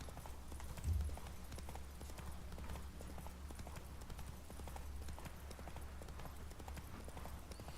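Roach the horse's hooves clip-clop steadily in The Witcher 3 video game, a continuous rhythmic trot under low ambient game sound with no talking.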